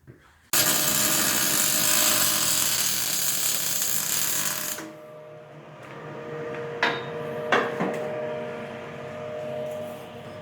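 Welding on the roll cage of a BMW E30 drift car chassis: a loud, harsh crackling buzz runs for about four seconds, then cuts off, followed by quieter clanks and short metallic hits.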